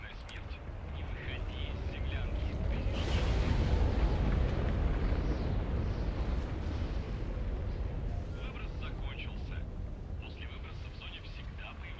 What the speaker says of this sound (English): So there was an eruption outside,